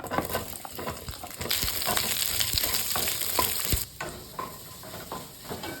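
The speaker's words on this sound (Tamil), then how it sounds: "இப்போ வெங்காயத்தை வந்து ஃப்ரை பண்ணி எடுத்துக்கலாம்." Onions sizzle in hot oil in a pan for a paneer gravy, with a louder crackling stretch in the middle and scraping stirs throughout, no speech.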